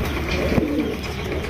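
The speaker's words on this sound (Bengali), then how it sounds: "চমৎকার এক জোড়া কবুতর বাচ্চা খাওয়াইতে ব্যস্ত" A pigeon from a pair busy feeding their chick gives a single soft, low coo, heard close over a faint steady background hum.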